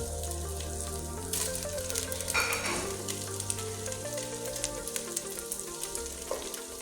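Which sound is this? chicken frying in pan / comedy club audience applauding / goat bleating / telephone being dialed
chicken frying in pan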